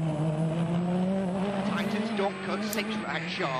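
A WRC rally car driving through a village during the 2014 Monte Carlo Rally, its engine a loud rising and falling roar as it passes close, with a commentator talking over it.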